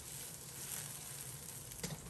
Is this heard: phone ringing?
no